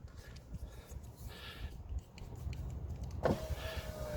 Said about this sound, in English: just going to do a quick test to make sure that nothing interferes when we wind down the window